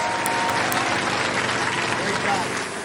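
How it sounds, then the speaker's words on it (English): Studio audience applauding a robot combat team at a Robot Wars heat, a steady dense wash of clapping filling the whole stretch, with voices faintly mixed in and a slight fade near the end. "Give them a round of applause."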